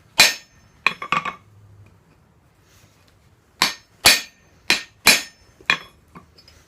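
A blacksmith's hammer scores hot steel for a split while hand-forging a campfire fork: a few sharp ringing strikes, a pause, then a quicker run of five or six close metallic blows.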